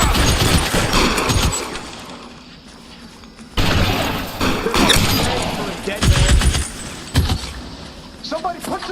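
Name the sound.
gunfire in shootout, from video game L.A. Noire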